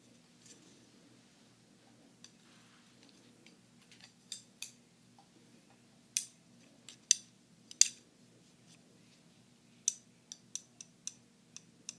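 Wooden chopsticks click together in soft, close taps, sparse at first and then coming in quicker clusters, crisp and quiet against a low steady hum.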